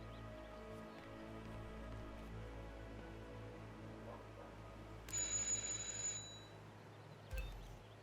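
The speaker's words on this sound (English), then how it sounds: "Just ring the doorbell." A doorbell rings in the video game Hitman 2, a bright electronic chime lasting about a second over a low steady hum of game ambience, followed by a shorter second ring.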